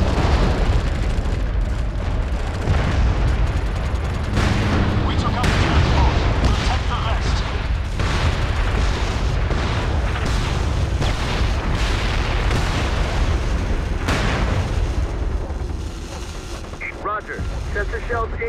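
Incoming artillery shells in the MAG video game land as a dense, continuous barrage of loud booms and rumbling blasts, with voices heard underneath.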